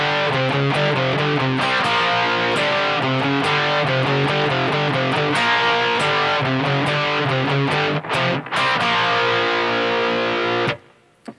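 Chunky distorted electric guitar plays the chordal second guitar part of a song, loud and close, with strummed chords ringing for about eleven seconds, a brief dip near the end, then a sudden stop.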